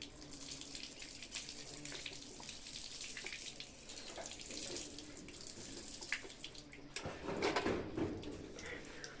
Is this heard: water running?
yes